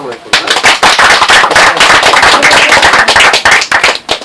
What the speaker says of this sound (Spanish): Un aplauso entonces.